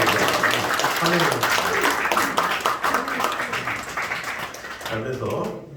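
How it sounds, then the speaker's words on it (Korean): Welcoming applause from a church congregation during a Sunday morning service, steady clapping mixed with voices speaking over it throughout. "자, 환영의 박수 드립니다."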